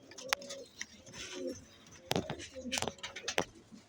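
A pair of tanki wale pigeons coo up close, soft repeated throaty calls mixed with a voice talking over them and a few brief handling sounds.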